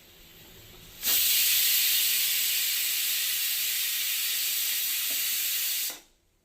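A pressure cooker cooking rice for egg biryani lets out one long, loud steam whistle. It rises abruptly, holds as a steady hiss for about five seconds, then cuts off into near silence.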